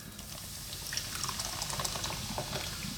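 Coca-Cola, original taste, pours from a can into a cooking pot with brown or white sugar for barbecue chicken, making a steady fizzing, bubbling wash that runs throughout at moderate level.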